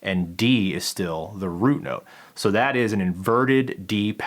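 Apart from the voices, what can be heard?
No everyday noises stand out.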